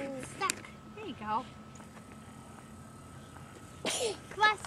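A sneeze near the start, followed by brief voices and a child's sounds in a quiet home setting, with a second burst of activity toward the end.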